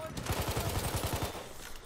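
Machine gun fire in Destiny 2, a rapid, evenly spaced burst of about a dozen shots rattling for over a second before trailing off, moderately loud against game background.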